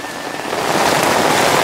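Steady rain pours down in a dense, even hiss that swells slightly, with no voices or other sounds over it.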